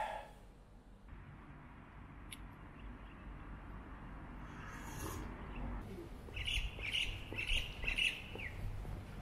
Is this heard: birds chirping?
yes